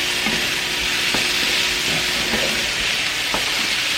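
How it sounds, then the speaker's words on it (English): Minced garlic frying in a hot pan for an Easter dinner, a loud, continuous sizzle and hiss with a few faint clinks and stirring taps over it. "now I'm going to add some minced garlic."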